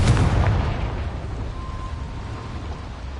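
Confringo blasting spell explosion in Hogwarts Legacy, a single loud boom at the start that decays into a long, rumbling low tail fading over a few seconds.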